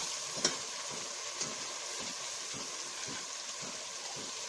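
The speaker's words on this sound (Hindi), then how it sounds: "इसको 3-4 मिनट तक भूनेंगे।" Ingredients for a green onion sabzi sauté in a pan with a soft, even sizzle. Faint rhythmic stirring strokes repeat about once a second, with a couple of light clinks.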